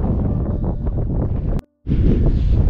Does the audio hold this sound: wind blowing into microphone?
yes